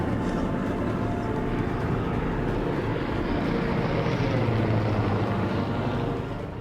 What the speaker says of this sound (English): You're looking at this plane, and you can clearly see it.